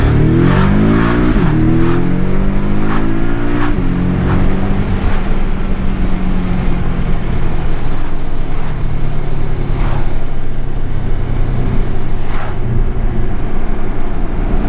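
A 2017 Porsche 718 Boxster S PDK tuned by MTM revs hard in sport mode, engine note climbing and dropping through quick gear shifts, loud and continuous from inside the car.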